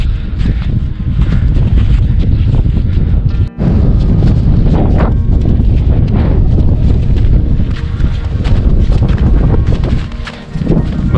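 Cold wind blowing steadily on a high-altitude mountain trek to Shrikhand Mahadev, a loud continuous roar of gusts buffeting the microphone, with one brief dropout partway through and no speech.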